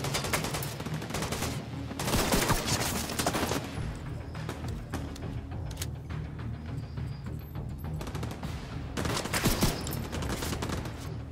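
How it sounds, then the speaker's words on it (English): Gunfire in the video game The Division 2, sustained bursts of rapid automatic fire and heavy volleys, loud and close, sounding almost continuously throughout. "Okay, there's a lot of you shooting at me."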